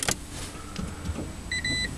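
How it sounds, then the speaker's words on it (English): A 2005 Toyota Prius 1.5 hybrid powering on quietly: a faint click and low hum, then a pair of soft electronic chimes near the end, with no engine roar. "You put your foot on the brake, you press power."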